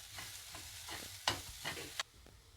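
Puffed rice for pori masala being stirred and fried in a pan on a low flame, a quiet dry rustle with a few crisp spoon scrapes, the last one sharp before the sound drops away.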